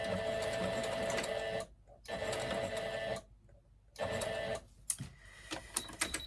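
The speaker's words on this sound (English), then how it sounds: "And at the end I'm just going to do a couple of stitches as well, extra." A sewing machine stitches a Christmas gift card holder in steady whirring runs broken by two short pauses, ending with a few brief extra stitches and small clicks.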